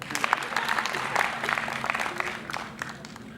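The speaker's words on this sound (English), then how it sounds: "First clap for yourselves." MBA graduates at a corporate dinner clap for themselves, a dense sustained round of applause from a room of people with some faint voices mixed in.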